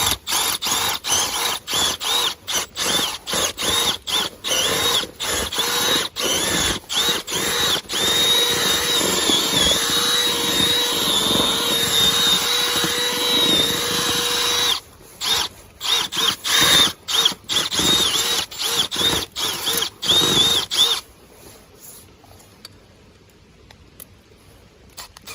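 Power drill with a 1.5 inch bit boring into dirt ground outdoors, a steady loud whirring grind broken by many short stops and restarts, then a brief pause and final bursts before it goes quiet.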